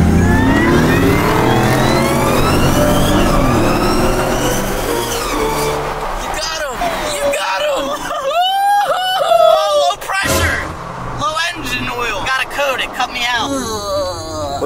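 A Ford Raptor truck engine revs hard and accelerates in a street race, a loud sustained roar with rising and falling pitch sweeps, with people talking over it.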